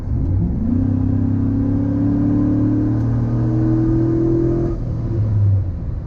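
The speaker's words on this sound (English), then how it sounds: "the V8 definitely is not hurting for a great exhaust note" A Chevrolet SSR's V8 engine revs up under acceleration, a deep steady exhaust drone climbing in pitch over several seconds, loud and close with no talking.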